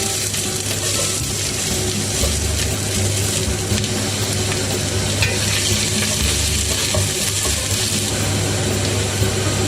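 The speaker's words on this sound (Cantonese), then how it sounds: "咁倒咗啲洋葱落去" Chopped onions sizzle and crackle in hot oil in a pot, a steady close frying hiss with occasional stirring scrapes, continuous throughout and no talking.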